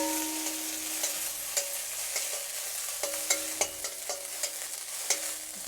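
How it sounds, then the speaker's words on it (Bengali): Raisins fry in ghee in a pan, a steady close sizzle broken by repeated scraping clicks of a spoon stirring them, with no talk. "এবার দিয়ে দিচ্ছি কিছু কিশমিশ, এটা আমি ভেজে নেব।"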